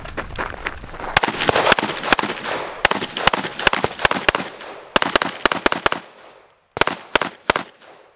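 A B&T TP9 pistol fires a rapid string of sharp, loud shots in irregular bursts, with brief pauses between volleys and a short gap before a final cluster.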